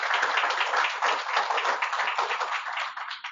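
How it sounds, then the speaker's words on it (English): A seated audience at a credit union annual meeting gives a round of steady, close, continuous clapping that tapers off at the end. "let's give those that help support us a round of applause"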